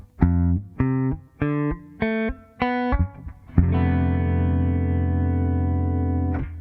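A melody from Zelda plays on a synth-like keyboard with an added octave spreading the voicing: five short detached chords in a row, then one long sustained chord ringing out.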